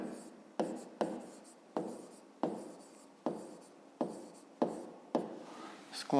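A pen writes by hand on paper in a series of about nine short strokes, each a sharp scratchy onset fading off, close and fairly quiet.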